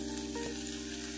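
Green chillies fry for bharit in a soft, steady sizzle, heard briefly and fairly quietly over a faint electrical hum.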